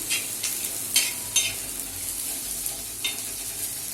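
Chili sizzles in a pan as spices fry for baingan bharta, a steady close hiss broken by several short spoon-stirring scrapes spaced about a second apart.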